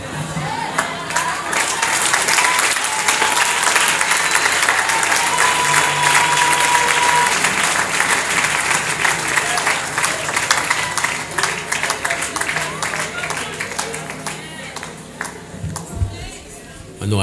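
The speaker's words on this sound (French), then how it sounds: "On applaudit Jésus." Sustained applause from a church congregation, dense clapping that fills the space from the start and tapers slightly toward the end, with voices mixed into the crowd.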